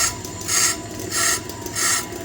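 A brake lathe cuts the surface of a flywheel from a 1976 Dodge D100 during a clutch swap, giving a steady rasping hum with three rhythmic swells of harsh scraping, close and moderately loud with no talking.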